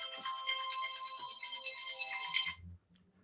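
A cell phone ringtone plays loud and close, a bright repeating electronic melody that runs about two and a half seconds and then cuts off, leaving quiet low rustling.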